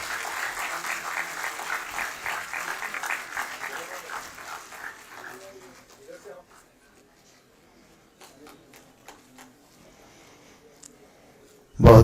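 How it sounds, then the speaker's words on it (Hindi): Applause at a book release event for a biography of Sharad Pawar, a crowd clapping steadily that fades out after about six seconds, leaving near-silence with faint taps and a loud thump at the very end. "जोरदार तालियों की गूंज में"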